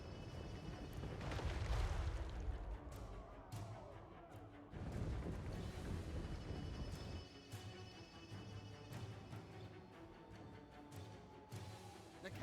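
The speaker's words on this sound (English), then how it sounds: "The cannons rain death." Cannon fire in a Total War: Warhammer 3 battle, muffled, distant booms and rumbling impacts scattered over a low battlefield din, fairly faint throughout.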